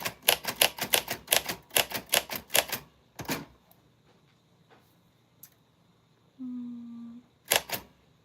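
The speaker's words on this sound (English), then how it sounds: "just typing some of the stuff I said to you so that you can hear what it sounds like from me and then from the" A manual typewriter types in a quick burst of sharp key strikes, then pauses and strikes a few isolated keys. A brief bell-like ding follows, then a final pair of strikes, close and clear in a quiet room.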